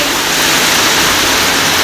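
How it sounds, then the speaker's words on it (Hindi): Very heavy rain pouring down outdoors, a loud, steady, dense hiss that fills the whole stretch without a break. "बहुत जोर से बारिश हो रहा है"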